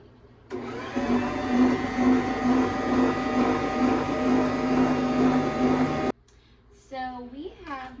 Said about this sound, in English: I'm going to mix everything that we have now